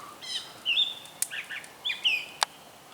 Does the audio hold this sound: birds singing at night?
yes